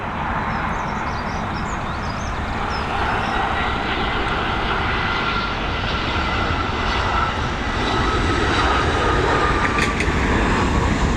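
An aircraft in rugby livery lands at Dublin Airport, its engines a loud continuous roar and rumble heard from nearby, steady throughout with faint background traffic.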